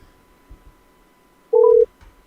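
A single short touch-tone beep cuts in, loud and close, against a quiet line with faint low thumps before and after, as a phone call is placed.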